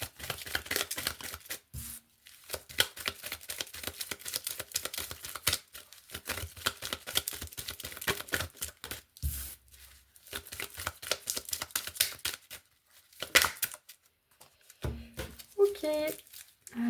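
A deck of oracle cards is handled and shuffled in long stretches of dense crackling riffles and slaps, broken by brief pauses and a few softer handling sounds near the end.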